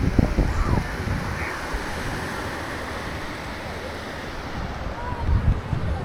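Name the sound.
breeze blowing on Siesta Beach, Florida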